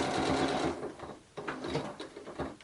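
A sewing machine back stitches a fabric door stopper in two close, quick bursts of rapid mechanical stitching separated by a short pause.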